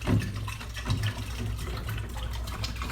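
Water sloshes and swirls as no-rinse cleanser is stirred into room-temperature water inside a beer keg, a close, continuous liquid churning with no speech.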